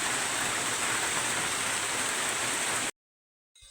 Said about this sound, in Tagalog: At sobrang lakas ng ulan.